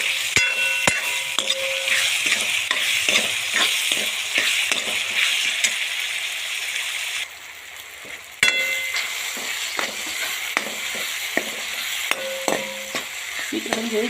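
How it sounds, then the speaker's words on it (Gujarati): Tomatoes roast and fry in a pan for a dhaba-style paneer curry, a continuous bright sizzle broken by frequent scraping, clinking stirs of a metal spoon, with a brief hush in the middle before the frying resumes. "ટામેટાં પણ આપણે સરસ મજાના શેકાવા માંડ્યા છે, બહુ જ મસ્ત મજાના."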